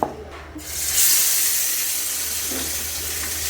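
Large fish pieces fry in hot oil in a frying pan, a dense sizzling hiss that flares up after a short quiet start and then holds steady and close.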